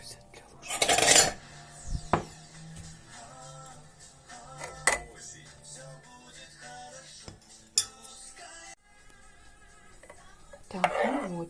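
Clinks of a spoon and plate being set down and handled while a honey cough remedy is stirred, scattered sharp taps and rattles at close range with quiet gaps between them.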